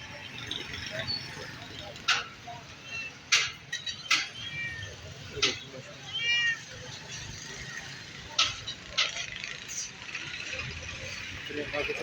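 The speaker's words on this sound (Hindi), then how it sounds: "छोटे बिल्ली के बच्चे सारे इस में देख सकते हैं।" Kittens meowing at a busy Sunday bird market on College Road in Rawalpindi, with repeated short, high cries amid crowd chatter, clinks and general market bustle.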